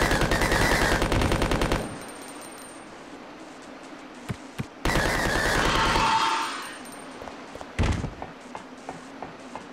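Submachine guns rattle in Resident Evil Code Veronica X, with two long, loud bursts of rapid automatic fire separated by quieter stretches of scattered single shots and sharp impacts.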